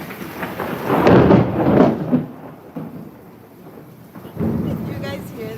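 Thunder rolls through a thunderstorm in two loud, rumbling swells separated by a quieter lull, with rain in the background.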